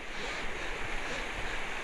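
The clear Dearborn River flows along a mountain back road, a steady broadband rush of moving water with a faint wind-like wash and no voices.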